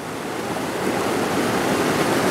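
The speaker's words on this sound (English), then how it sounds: "I've got the waterfalls in front of me." A small waterfall pours into a pool at the foot of the falls on Rob Roy's Trail, a steady, close rushing of water with no breaks over a couple of seconds.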